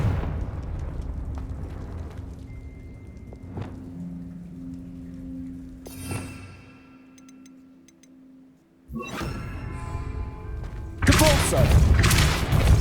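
A Confringo fire spell blasts in the video game Hogwarts Legacy, a loud explosive burst near the end over rumbling game ambience and earlier thuds, with a voice speaking among the effects.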